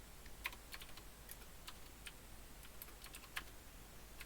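Typing on a computer keyboard during a coding session, with quiet, irregular key clicks spread across the stretch and a few slightly sharper taps standing out, no voices.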